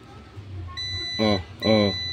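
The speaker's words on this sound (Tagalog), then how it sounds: "Di ba, buzzer. Naka-buzzer." A multi cooker's buzzer sounds two loud, steady, tonal bursts in quick succession, each lasting about a third of a second, over a faint high whine and low background hum.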